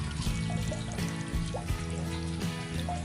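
Steady stream of water running from a small mini water pump in a garden, a continuous splashing trickle at constant loudness, close by with a low hum underneath.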